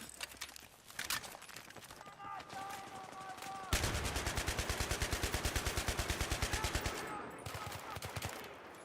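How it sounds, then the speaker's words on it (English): Rapid automatic gunfire in a video game shooter, with a long rattling burst of evenly spaced shots after a few scattered earlier ones, heard fairly faint in the background. "I just keep on shooting until you know you guys learn your lesson."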